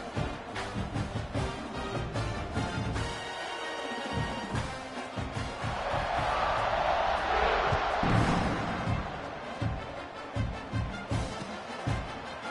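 A football stadium crowd at kickoff swells into a broad roar that peaks mid-clip, with rhythmic thumps and band-like tones running underneath.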